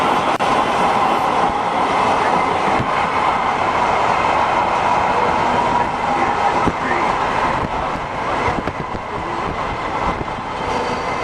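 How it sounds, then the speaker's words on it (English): A Metro Gold Line light rail train rolls past on the new East Side Extension, a steady close rumble with faint rail clatter and wind, crowd sounds beneath it throughout. "I watched with anticipation as the new Metro Rail drove by."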